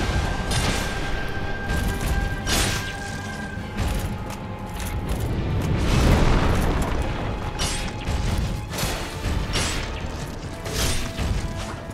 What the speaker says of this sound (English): Fire ball.